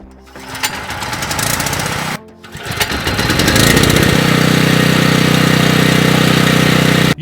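Craftsman 3500W portable generator engine running steadily and loud after a choke adjustment, with a brief dip near two seconds before settling into a constant, buzzing drone with no talk.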